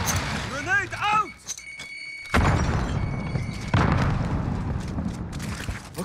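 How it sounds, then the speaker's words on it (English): A grenade goes off in the Call of Duty Modern Warfare video game, a heavy thump followed by a loud sustained blast and rumbling debris, with voices speaking over the combat noise. "Grenade out!"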